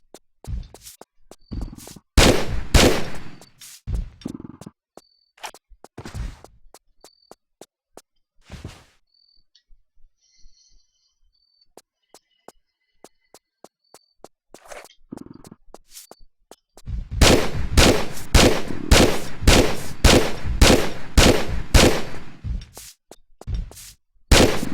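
Gunshots in the video game Tomb Raider 3 come as sharp, loud clustered cracks, with sparse shots early on and then a dense rapid volley near the end, alone without talk.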